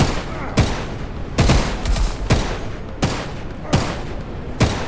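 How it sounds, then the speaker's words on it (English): Gunfire in the survival video game HumanitZ: a string of sharp, loud shots at irregular intervals, about seven bursts over five seconds, each with a booming low tail and noisy echo, with no talk. "I thought he was shooting at me"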